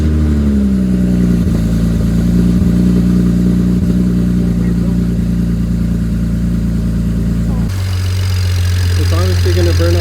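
BMW N54 twin-turbo engine with eBay turbos and a custom tune cranks up, then settles into a loud, steady idle close by, with a drop in engine note near the end.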